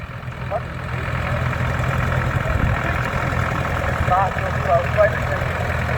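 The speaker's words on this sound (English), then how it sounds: "typical threshing tractor, single cylinder diesel, and that's the Marshall Model M with a rear winch" A Marshall Model M single-cylinder diesel threshing tractor with a rear winch runs steadily at a vintage rally parade, a low continuous engine drone with a faint knock, outdoors amid background crowd murmur.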